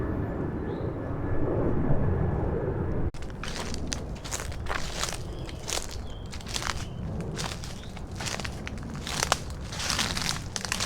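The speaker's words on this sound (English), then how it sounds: "there is constant airplane noise from the world's busiest airport." A low, distant airplane rumble from nearby Atlanta airport, the world's busiest, drones steadily while footsteps crunch on gravel or leaves close by.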